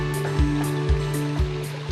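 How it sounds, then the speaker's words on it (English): A garden stream in a Florida courtyard twists through turns and spills into two waterfalls, giving a steady close trickle broken by regular soft splashes about every half second. "some turns in the stream that ends up in two waterfalls"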